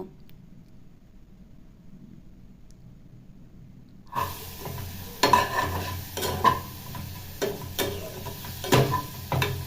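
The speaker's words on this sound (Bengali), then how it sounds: "আলুগুলিকে আমি আবার খুন্তির সাহায্যে খুব ভালো করে মশলার সাথে মিশিয়ে দেব।" A spatula stirring fried potatoes into spice masala for Assam fish curry: near-silence at first, then sizzling frying with several sharp scrapes and clanks against the pan, close and moderately loud.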